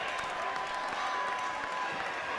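Crowd at a varsity high school basketball game between Salesianum and St. Elizabeth cheers and applauds steadily late in a lopsided game, a broad, continuous wash of noise from the stands at moderate distance.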